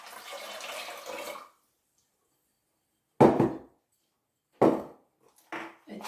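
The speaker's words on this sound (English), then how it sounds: "I'll pour the contents of that into a pot" Vinegar then water poured from a 500ml bottle into a pot for pickled beetroot: a short sloshing stream, then silence, then a few loud splashy bursts of pouring, close and without talk.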